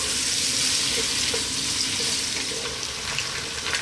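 Chicken fries in a pan over above-medium heat, a dense continuous sizzle close up with faint occasional stirring clicks and no talking.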